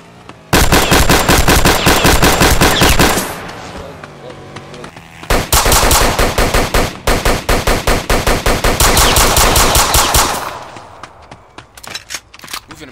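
Glock 26 fire in a Roblox game comes as loud, rapid bursts of pistol shots in two long volleys separated by a short lull, with faint voices underneath.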